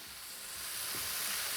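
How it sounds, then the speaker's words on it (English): Salt-and-pepper seasoned goat meat sizzles loudly in a hot pan, a steady close crackling hiss that swells slightly, with no talk. "So this goes into the pan. You want to hear that sizzle?"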